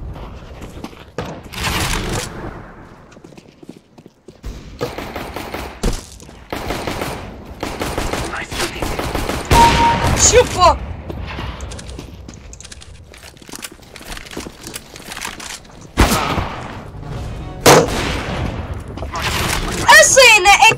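Gunfire in an online shooter video game, repeated loud bursts and single shots popping throughout, mixed with excited Portuguese commentary from a player.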